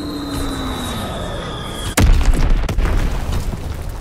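A bombing-run explosion in a shooter game: a steady engine drone, then a sudden heavy boom followed by crackling, rumbling debris that fades slowly, loud and close with no talking.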